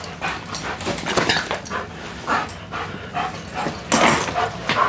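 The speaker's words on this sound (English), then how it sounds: "K-9 deployed in the house." A police K-9 dog searching inside a house pants in quick bursts and lets out several high, thin whimpers and yips, all close and uneven, with brief pauses between breaths.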